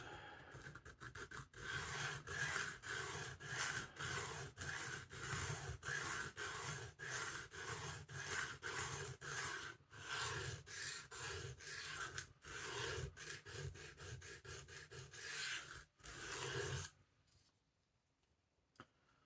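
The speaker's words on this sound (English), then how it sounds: "I'm just going to stroke it up and down just to take." A knife blade being stroked up and down on a sharpening stone to remove the burr during a restoration, a steady run of close rasping scrapes that stops near the end, leaving quiet.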